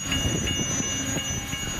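A freight train rolls steadily through a crossing in Winfield, Illinois, with a continuous loud, close rumble and rhythmic wheel clatter over the rails.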